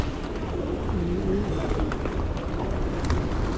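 A pigeon coos in low, soft repeated calls on a city street, heard over a steady wash of traffic and urban background noise.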